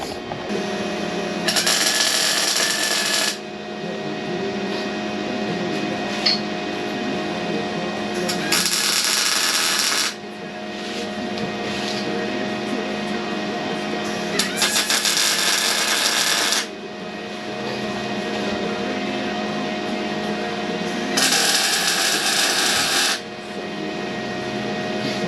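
Tack welds on homemade steel rock sliders: four separate bursts of harsh buzzing crackle, each lasting a couple of seconds, with steady workshop hum between them.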